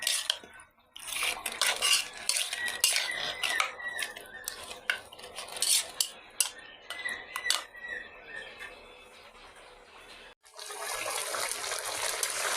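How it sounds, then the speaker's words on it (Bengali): A spoon scrapes and stirs meat frying with potatoes in a pot, with busy close clatter and sizzling throughout and a brief pause before a steady hissing fry takes over near the end. "এদিকে আমি মাংসটা কষাই নিচ্ছি এই যে আলু দিয়ে"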